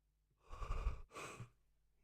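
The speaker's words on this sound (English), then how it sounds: "I've got the yawns" A person yawns once, close and fairly quiet: a long, breathy drawn-out inhale followed by a brief pause and a softer exhaling sigh.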